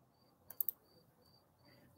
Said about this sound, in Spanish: El grillo, ¿se oye?